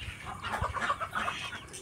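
Chickens cluck softly in a farmyard where goats are also kept, a few short, fairly quiet calls close by with no talk.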